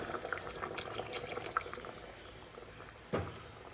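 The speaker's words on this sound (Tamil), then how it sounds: "இப்போ புளியை ஊற்றிடலாம்" Tamarind water pours steadily into a bubbling, simmering jackfruit-seed curry, ending with a sudden louder splash near the end.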